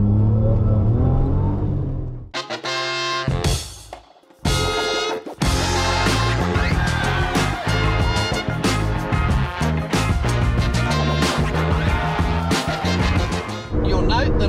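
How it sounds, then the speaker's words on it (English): A Suzuki Cappuccino runs on a track during a track day, its engine loud and close as it revs up and pulls through gears, with a brief drop in noise early on before the strong, continuous engine drone resumes. "You'll note that I'm in the Cappuccino and I'm driving."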